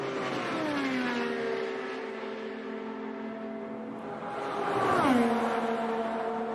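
An IndyCar race car runs fast during Indianapolis 500 pole day practice, its high engine note sweeping down as it passes, then a second rising and falling pass, loud and steady with no speech.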